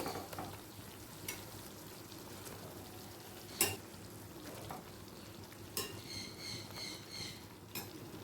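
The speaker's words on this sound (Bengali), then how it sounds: "আবারও পনিরগুলোকে মশলার সাথে দু থেকে তিন মিনিট কষিয়ে নেব" Paneer cubes frying with spice masala in a pan, a soft steady sizzle throughout with a few sharp spoon-against-pan clinks as the pieces are turned, no talking.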